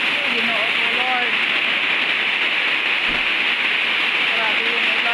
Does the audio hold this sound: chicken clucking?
no